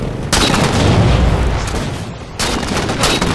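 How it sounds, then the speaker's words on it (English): Two loud, booming pistol shots ring out in the video game Halo 4, each followed by a long rumbling decay. "I ran out of ammo, so I just pulled my pistol and shot him."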